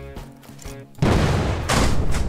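Loud rocket launcher fire and explosions in the Brick Rigs video game, a sharp blast followed by a sustained roaring rumble of detonations.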